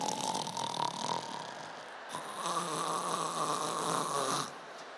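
A voice imitates snoring with two long, rasping breaths, close and fairly loud, one short and one drawn out.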